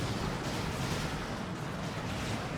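Artillery and gunfire from the real-time strategy game Dawn of War 2: Retribution, a steady rumbling barrage of blasts and shots that holds at an even level throughout.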